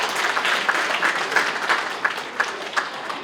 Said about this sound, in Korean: 좋은 공연 보여주신 단장님께 다시 한번 큰 박수 부탁드립니다